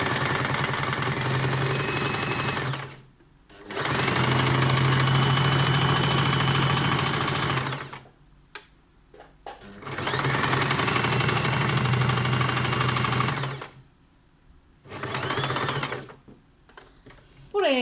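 A sewing machine stitches a tank top strap in three loud, steady bursts of rapid whirring, separated by short pauses.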